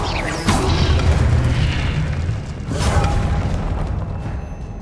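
Two fiery whooshing bursts from the Incendio spell in Hogwarts Legacy, each a loud boom over a rumbling background, spaced a couple of seconds apart.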